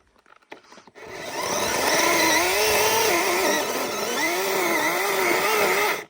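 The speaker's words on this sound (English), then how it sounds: "Now, obviously this is an electric chainsaw, so it's not as powerful as some of the petrol ones." An electric chainsaw bites into a tree stump, a loud steady whine with wavering pitch as the chain strains under load for about five seconds after a short quiet start, then cuts off.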